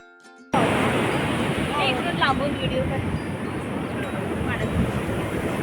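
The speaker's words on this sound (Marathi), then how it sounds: "झालं अथांग समुद्र." Sea waves roll onto Calangute beach in Goa as a loud, steady wash of surf after a sudden start, with faint voices and calls mixed into the roar.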